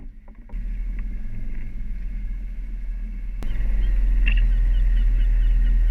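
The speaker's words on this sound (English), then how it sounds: "We motored out of Caernarfon and turned east up the Menai Straits" Boat engine motoring out of Caernarfon and east up the Menai Straits, a steady low drone that grows louder partway through, with faint water and wind noise and no talk.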